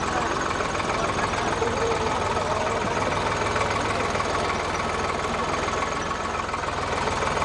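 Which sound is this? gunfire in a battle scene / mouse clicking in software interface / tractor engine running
tractor engine running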